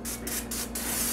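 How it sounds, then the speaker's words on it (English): Short pulses of olive oil spray hiss from a can over pork rinds laid on a tray, three quick bursts followed by a longer spray, heard up close. "I'll go over them and I'll spray them real quick."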